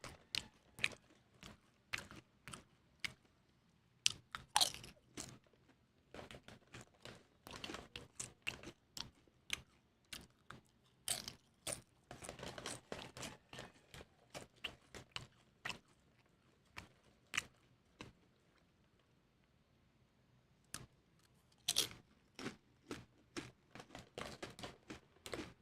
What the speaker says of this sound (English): I'm eating Doritos.